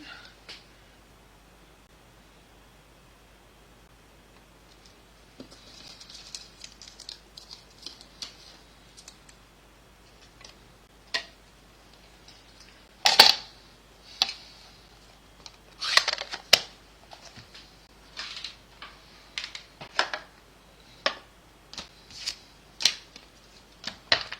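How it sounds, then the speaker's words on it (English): A die cut machine cutting through card gives a series of crisp, close clicks and short rasping crunches, sparse at first and then more frequent and uneven, with quiet gaps between them. "Once I die cut this, we are done with the die cut machine"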